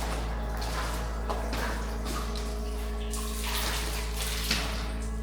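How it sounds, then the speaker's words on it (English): Water trickling and splashing down inside a dark cave along a Canadian wilderness trail, a faint steady flow with soft drips and small splashes at a low level throughout. "Some water coming down right there."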